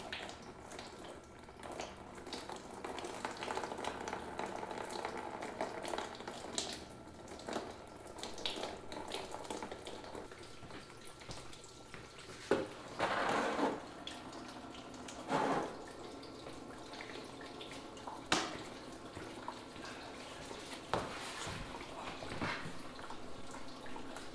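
Antifreeze coolant draining from a car radiator during a radiator flush, a faint continuous trickle and splash of liquid with scattered drips and small clunks, quiet and steady throughout.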